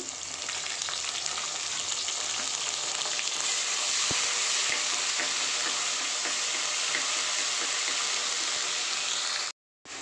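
Ginger-garlic paste sizzles and fries steadily in hot oil for a chicken curry, a dense continuous crackle held at close range before cutting out abruptly near the end.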